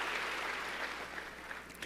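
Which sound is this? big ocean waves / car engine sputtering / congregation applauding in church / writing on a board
congregation applauding in church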